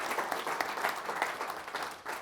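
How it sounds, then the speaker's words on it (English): A small crowd claps in a brief burst of applause, steady and fairly soft, with no voices standing out. "Can we give them a 1, 2, 3 power clap?"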